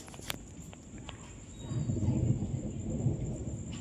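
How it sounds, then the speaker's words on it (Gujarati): Thunder rumbles low and loud during a heavy rainstorm, swelling over the second half above a steady wash of rain, with a few sharp cracks and knocks early on. "ધમાકેદાર વરસાદ ચાલુ થઈ ગયો ને"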